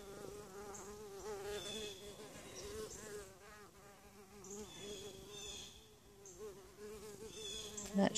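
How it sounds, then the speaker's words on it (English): A bee hovers close by, its buzz wavering and rising and falling steadily for several seconds with no talk over it. "buzzer bee."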